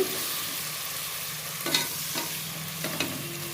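Chicken frying in a kadai, a continuous hiss of hot oil with a few spoon scrapes and clinks against the pan, close and steady with no talking.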